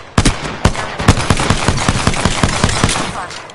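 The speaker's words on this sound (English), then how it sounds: "Shots fired, and they're hitting me" Close, loud automatic gunfire in the Apex Legends video game fires as a rapid string of sharp shots with a few heavier bangs. It runs almost without a break through the whole clip.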